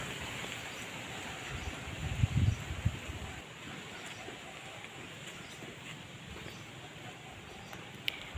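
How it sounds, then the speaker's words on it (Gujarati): Wind blows steadily outdoors, with soft rustling and low buffeting gusts that swell briefly early on, then settle into a constant breezy hiss. "પવન તો જુઓ કેટલો બધો છે"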